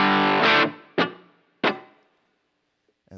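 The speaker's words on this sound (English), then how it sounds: "It's just a little bit of room reverb." A bright, distorted instrument chord from a pedalboard rings out, followed by two sharp struck notes, each decaying with a short, light room reverb tail into silence.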